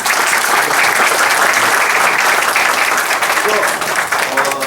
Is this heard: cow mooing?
no